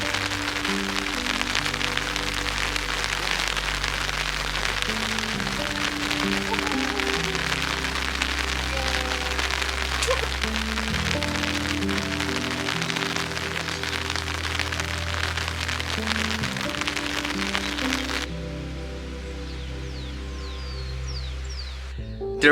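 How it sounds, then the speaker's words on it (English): Steady rain falls through a rainy season on a goat farm, a continuous dense hiss over low rumbling tones, easing to a quieter patter near the end. "it's raining, it's still raining"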